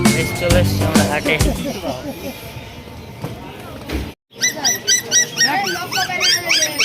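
A dog at a busy pet and bird market gives short yips and whimpers amid crowd chatter, with chirping birds close by near the end.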